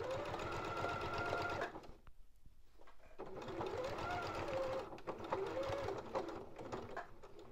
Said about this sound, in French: je vais piquer jusqu'à à peu près 1 cm, jusqu'à ce que les biais se chevauchent sur 1 cm